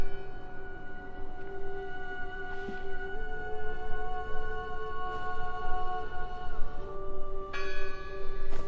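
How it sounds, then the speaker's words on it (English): Bell tones ring out repeatedly over a steady ambient drone in the video game Draugen, with sustained pitched overtones layered throughout and fresh strikes sounding at intervals, fairly faint against the background. "I heard the bell!"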